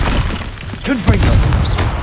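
In Hogwarts Legacy, a Confringo explosive spell lands with a booming thud. Battle noise crackles around it while a voice shouts over the impact.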